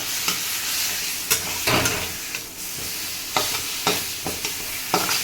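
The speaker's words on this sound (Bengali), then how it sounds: "ভালো করে ভেজে নেবো জলটা যখন একটু শুকিয়ে যাবে কচুর শাক নামিয়ে নেবে" Taro leaves fry in a pan while being stirred, with repeated scraping strokes cutting through a steady background sizzle at an uneven rhythm.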